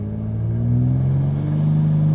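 A 2024 BMW M4 convertible revving on the brake before a launch, a steady, loud engine drone that swells slightly as it holds under load, heard close with no talk.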